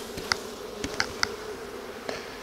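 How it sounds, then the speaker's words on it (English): Honeybees buzz in a steady close drone as they are knocked off a hive frame during an inspection, with several sharp knocks of the frame punctuating the buzzing. "I'm going to just knock the bees off right now."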